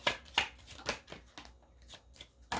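Oracle cards shuffled by hand in quick close riffles, a rhythmic series of crisp papery flutters and slaps, with no talk.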